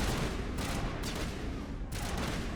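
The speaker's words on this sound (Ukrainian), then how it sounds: "По кому вони стріляють?" Gunfire in the video game Mass Effect Legendary Edition, a dense continuous burst of loud, noisy shots with a few sharper cracks standing out, steady and without pauses or talking.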